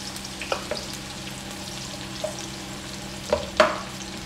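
Onion frying in hot oil with mustard seeds for a spicy mixed sabzi, a steady close sizzle with a few sharp pops and crackles toward the end, no voices.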